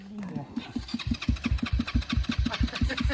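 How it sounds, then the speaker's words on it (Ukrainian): A motorcycle engine fails to start after being filled with diesel, with a repeated rhythmic starter chug cranking close by and no catch, while a person talks over it. "Кові не заводиться."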